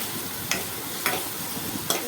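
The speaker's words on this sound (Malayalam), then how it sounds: "ഇതൊക്കെ ഇട്ട് കുറച്ച് ആവശ്യത്തിന് ഉപ്പ് ഇട്ട് നന്നായി വഴറ്റിയെടുക്കുക" Tomato, green chilli and ginger-garlic paste being sautéed with salt in a pan for egg curry: a low frying hiss with three sharp scraping stirs of a spoon against the pan, fairly quiet.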